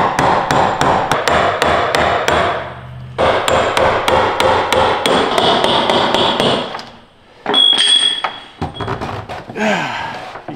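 Hammer blows on a chisel used to knock loose the fuel filter cap on a 7.3 Powerstroke diesel; rapid, loud metallic strikes in quick runs, a short pause, then more bursts of sharp taps and clanks.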